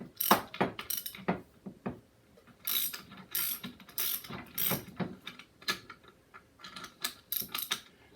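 A socket wrench ratchet drives a 7/16 bolt tight while rebuilding a Snapper rear-engine riding mower, giving bursts of quick, close, crisp clicks separated by short pauses.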